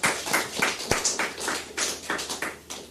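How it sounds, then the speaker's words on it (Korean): Sparse clapping from a church congregation during a Korean sermon, a handful of distinct, fairly quiet claps at an uneven rhythm rather than a full ovation. "박수가 나와야죠. 박수."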